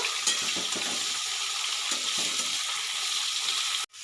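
Mung dal batter sizzles steadily in hot oil in a pan while being stirred, a constant bright frying hiss with occasional scraping strokes, close and alone, cutting off abruptly near the end.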